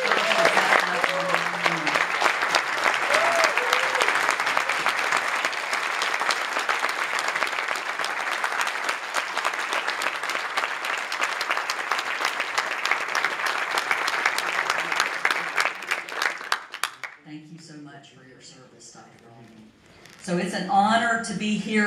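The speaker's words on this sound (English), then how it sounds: "Let's have a round of applause for Dr. Buzz Aldrin, Apollo astronaut." Conference audience applauding an Apollo astronaut at a NASA Langley centennial symposium, sustained dense clapping for about seventeen seconds before fading, followed by someone speaking.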